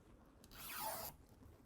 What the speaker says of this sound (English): now I can just go ahead and start peeling